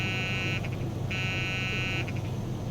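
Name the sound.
landing gear warning buzzer, Beechcraft 18 in video game MSFS 2020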